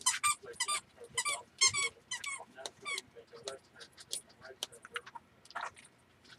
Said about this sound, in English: now they want to play with a squeak toy